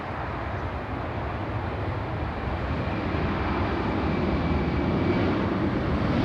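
A United Airlines airliner's jet engines roar during takeoff at LAX, a loud, broad, continuous rumble that holds steady and swells slightly over several seconds, with no voices.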